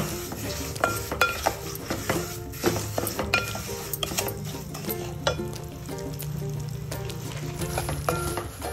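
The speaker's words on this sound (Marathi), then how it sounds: "मी लो टू मीडियम गॅसवरच करतेय, म्हणजे छान आपला रवा छान खमंग भाजला जातो" Semolina (rava) roasting in ghee in a pan over low-medium gas, a steady gentle sizzle broken by frequent clinks and scrapes of a utensil against the pan, close and continuous.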